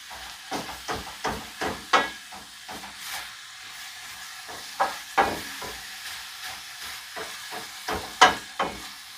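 Minced meat for lasagna sizzling and hissing in a hot pan, with repeated scraping and tapping as it is stirred and broken apart with the back of a spoon.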